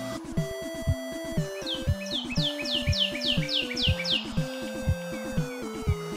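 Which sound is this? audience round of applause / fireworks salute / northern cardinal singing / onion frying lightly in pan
northern cardinal singing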